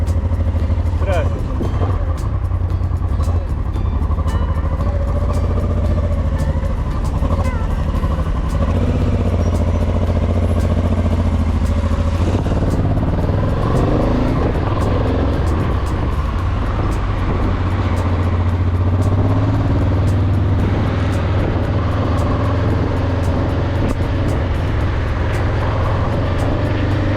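Honda Transalp XL 700 V motorcycle riding through traffic, engine droning and shifting pitch steadily beneath heavy wind rush, recorded up close on a GoPro 11 action camera, with someone talking over it much of the time.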